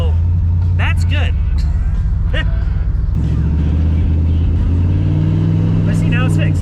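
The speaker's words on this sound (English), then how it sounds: "It is still doing its spitting and sputtering that it was doing all day yesterday." A 1967 Camaro engine with a spitting, sputtering misfire, its loud, uneven low drone breaking up and then steadying, under close conversation.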